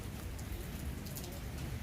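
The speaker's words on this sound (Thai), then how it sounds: "ทางนี้ฝนตกลมแรง" Steady rain with gusting wind in a summer storm, a dense continuous wash of drops and low rumbling air noise, fairly quiet and with no talking.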